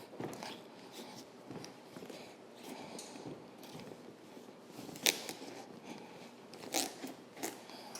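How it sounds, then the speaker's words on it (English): A knife cuts into a pumpkin with quiet crunching and scraping, broken by a few sharp cracking snaps as the blade forces through the tough rind. "Let's cut into this pumpkin"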